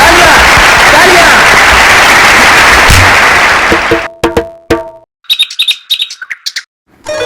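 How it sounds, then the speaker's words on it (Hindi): A crowd breaks into loud, dense applause that roars steadily, then cuts to scattered sharp claps and chirpy high tones in bursts, with voices mixed in. "तालियां तालियां तालियां"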